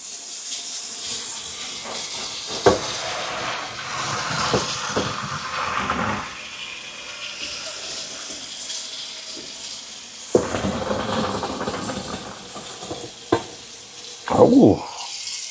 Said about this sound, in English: I want to leave it on cold water, but not for the pasta, for the sink